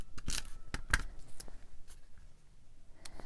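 Scissors snip through paper while trimming pieces for a handmade thank-you card, a few quick sharp cuts near the start and again around the middle, close and crisp, then quieter rustling.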